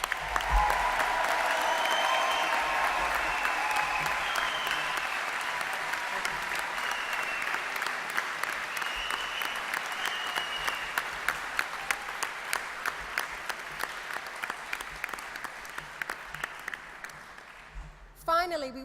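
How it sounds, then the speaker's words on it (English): Sustained applause from a large crowd, steady and dense, gradually thinning into scattered individual claps near the end. "Can we have another very, very warm round of applause for our graduates,"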